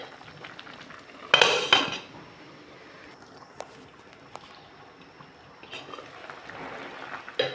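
A lid set onto a cooking pot of fish soup, with a short loud clatter of metal followed by a few faint taps and a soft simmering hiss.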